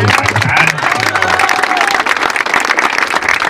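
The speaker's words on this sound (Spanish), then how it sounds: "Un aplauso para nuestro amigo." Loud applause rises from an event audience welcoming a security expert, with a brief low tonal hum at the start, then dense, close clapping with a few scattered cheers running to the end.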